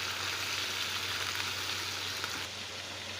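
Chicken pieces frying in a pan for chicken macaroni, giving a steady, close, broadband sizzle that stays even throughout and drops slightly near the end, with no talking.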